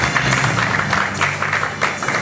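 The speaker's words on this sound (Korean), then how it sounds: "대장님께 뜨거운 박수 부탁드리겠습니다." An audience applauds at an award ceremony held in a small meeting room of the National Assembly members' office building, with a continuous wash of clapping that holds steady under faint room noise.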